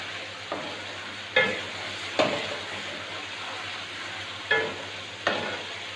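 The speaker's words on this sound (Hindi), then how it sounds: "अभी सिर्फ हम इसको भूनेंगे चिकन को अच्छी तरह से।" Chicken coated in spices stir-fries in a pot, a soft continuous sizzle broken by several sharp scraping strokes of a spoon at uneven intervals.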